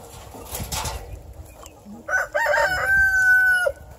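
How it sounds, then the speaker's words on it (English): Homestead chickens cluck and a rooster gives a clear crow, close and fairly loud, following some muffled rustling and low noise. "So it looks like the chickens are ready to come out."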